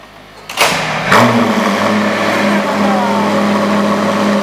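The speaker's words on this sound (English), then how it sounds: "McLaren P1 startup" A McLaren P1 supercar engine cranks and fires into a loud, close roar, then settles into a steady, throbbing idle.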